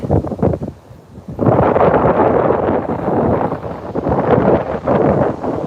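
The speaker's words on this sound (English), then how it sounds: "It's kind of windy down here today" Loud gusting wind buffeting the microphone on Virginia Beach, a roaring rumble that eases briefly and then returns strong and continuous.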